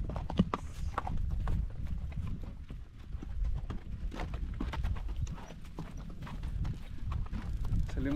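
Horses' hooves clip-clop steadily in an irregular, close rhythm on a ride toward a ravine near Talpa, Mexico, with the occasional faint snort and soft outdoor background throughout.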